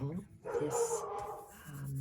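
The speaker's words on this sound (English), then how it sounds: "Here, Mila and Jacques barking away." A couple of dogs bark and yelp in short bursts, somewhat distant, with a brief whine in between.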